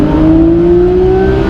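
A Porsche 991 GT3 RS engine drones steadily and loudly from inside the car as it drives through a tunnel, its pitch rising slowly under light throttle with a strong low rumble throughout, no voices over it.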